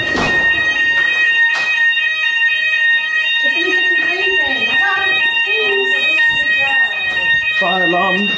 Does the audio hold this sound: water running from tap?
no